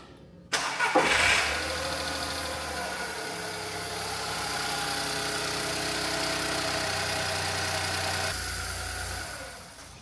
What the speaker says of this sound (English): But the engine turned over, I then plugged the coil packs back in, and then it sounded a little bit like this.